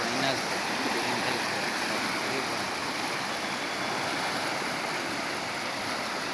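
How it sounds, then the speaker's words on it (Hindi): Muddy river water rushes past a sandy bank during a flood, a steady, loud broadband roar of flowing water that holds constant throughout. "पानी आ रहा है ना।"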